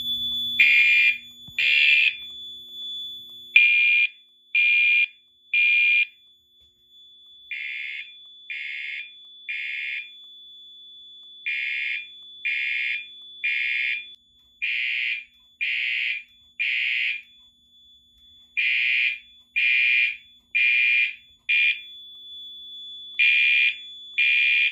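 A Fire-Lite fire alarm system, set off by a pulled BG12L pull station, sounds a loud electronic tone in a repeating temporal pattern of three-pulse bursts with short gaps, steady and close with no talking.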